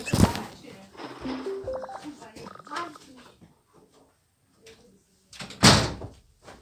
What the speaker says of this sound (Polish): zamknąłem drzwi